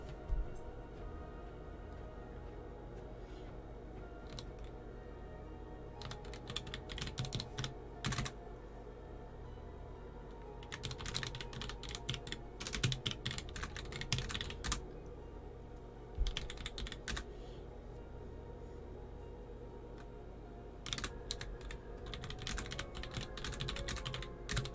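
Someone types on a computer keyboard in several bursts of quick, close key clicks, with short pauses between them over a low background hum.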